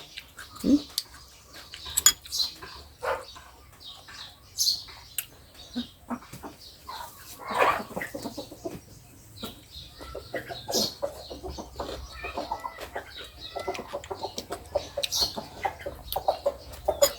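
Free-range village chickens on a farm cluck and squawk in scattered bursts, some close and loud, others fainter, with intermittent background noise and no talk.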